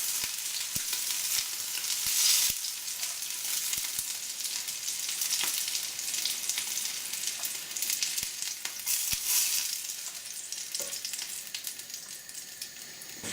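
Ox cheeks sear in a hot pan with a steady, loud sizzle and crackle throughout, swelling in brief bursts as the meat shifts, with no voices.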